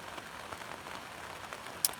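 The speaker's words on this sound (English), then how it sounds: "It's raining some now." Rain pattering steadily on a wet tent on the Pacific Crest Trail near the Canadian border, a soft diffuse patter with scattered louder drops and one sharp tap near the end, alone with no voices.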